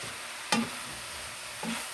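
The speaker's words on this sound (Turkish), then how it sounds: "Mantarlar sulanana kadar karıştırıyorum. Yağda biraz kavuralım." Sliced mushrooms frying in oil in a pan, a soft continuous sizzle broken by two short scraping stirs of a spoon, close and fairly quiet.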